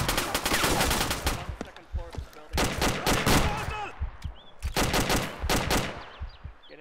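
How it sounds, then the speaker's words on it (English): Dense automatic gunfire rattles through a military video game, with long loud bursts and brief pauses between them and a voice talking faintly underneath. "Taking fire from our cell."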